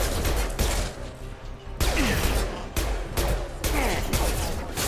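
Gunfire erupts in the sci-fi shooter Mass Effect, with loud bursts of rapid shots separated by short pauses and mixed with clattering impacts.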